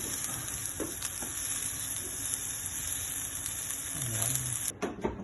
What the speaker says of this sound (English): In we go with the broccoli.